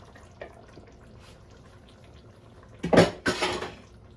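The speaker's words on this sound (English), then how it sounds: "Now I'm gonna put the liver inside." Cut liver dropped into a pot of Portuguese stew of chicken feet, hearts and gizzards: a brief wet clatter of pot and utensil around the third second, a second splash just after, with quiet kitchen background before.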